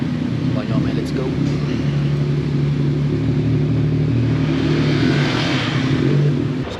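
Several motorbikes, including a Yamaha Aerox, run with a steady, close, rumbling engine drone that swells slightly toward the end, with voices faintly mixed in.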